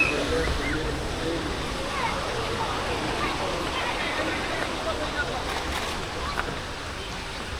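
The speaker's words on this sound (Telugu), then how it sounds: "See the first glance of this mesmerizing Atrapalli waterfalls" Athirapilly waterfall in peak summer season, still running with good flow, gives a steady, loud, unbroken roar of rushing water that fills the whole stretch without pause.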